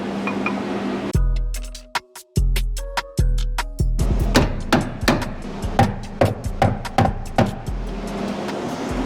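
Hammer blows ring out on the body of a crashed 2009 Porsche Cayman, a few slow heavy strikes followed by a quicker run of lighter metallic taps, close and loud in a workshop.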